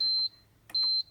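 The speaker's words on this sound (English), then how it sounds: "make sure everything does a beep beep noise, that it works" Two electronic beeps from a cash register as its keys are pressed, each a steady tone lasting about a quarter second, close and clear, with a short clatter of key handling between them.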